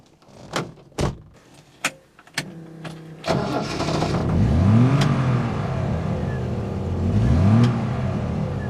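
A Triumph TR5 British sports car with fuel injection, a few sharp clicks and a door thud, then the engine cranks and catches, rumbling and revving in two swelling pulls as it drives out, close and loud.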